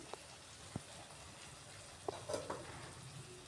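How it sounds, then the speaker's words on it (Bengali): Spice paste for stuffed eggplant frying in oil, a low steady sizzle with a few faint clinks and scrapes of stirring scattered through. "মশলাটা কষানো হয়ে গেছে, মশলা থেকে তেল ছেড়ে আসছে"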